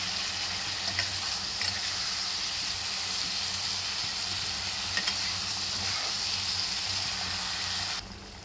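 Eggplant sizzling steadily in a pan with a tomato and cumin spice mix, a continuous close frying hiss with faint stirring scrapes and no talk.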